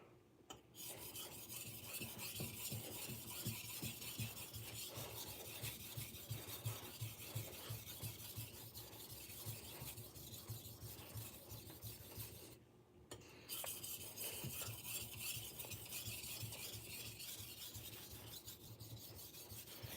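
A santoku kitchen knife being sharpened, a steady rasping scrape repeated in quick strokes for the whole stretch, close and loud, with one brief pause partway through.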